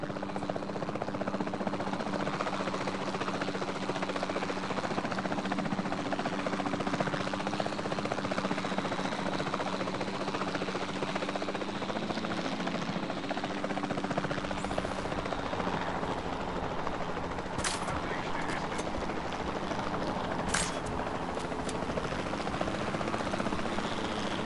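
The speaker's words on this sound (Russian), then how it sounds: "нужно взять вертолет команды отлова и обезвредить особь с воздуха" Capture team helicopter in Jurassic World Evolution 2 gives a loud continuous rotor and engine drone that holds steady throughout, with a few brief sharp blips near the end and no talk.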